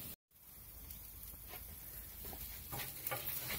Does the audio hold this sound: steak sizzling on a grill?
yes